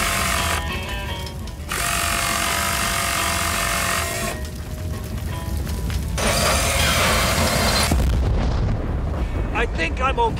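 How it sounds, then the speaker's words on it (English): A heavy weapon in a Battlefield game fires with sustained, loud roaring blasts that fill the scene, a dense rumbling wall of noise with brief dips before another thunderous stretch, and a voice heard faintly beneath it. "He's firing! Damn, my ears!"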